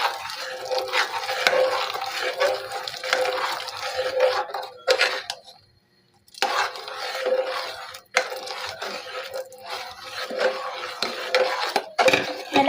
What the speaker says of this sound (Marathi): याला असंच हलवावं लागतं कंटिन्यू 2-3 मिनिट